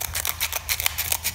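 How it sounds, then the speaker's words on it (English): Serrated-tooth scissors snip through band-file sandpaper in quick, crisp, gritty cuts, about a dozen rapid close strokes with no talking. "not a challenge for these scissors because they got the serrated teeth"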